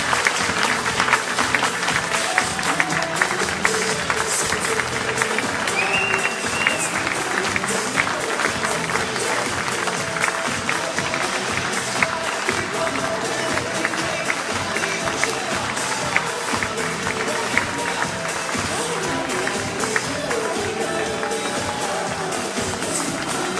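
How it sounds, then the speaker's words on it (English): An audience at the Isle of Wight Radio Child of Wight Awards applauds the Fundraiser Award winner, a steady, dense wash of clapping lasting the whole stretch, with crowd noise and some voices mixed underneath. "a round of applause"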